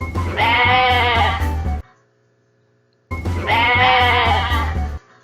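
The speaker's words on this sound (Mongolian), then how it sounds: "Ямаа майлж байна." Two long, loud goat bleats separated by a short silence, each a wavering, nasal cry close to the listener.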